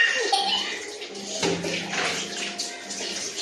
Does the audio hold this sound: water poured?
yes